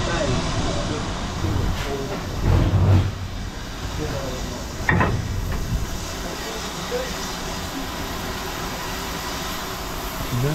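A heritage railway locomotive on the North Yorkshire Moors Railway rumbles low and steady as it pulls its carriages away, with a couple of louder clanks and hissing bursts early on.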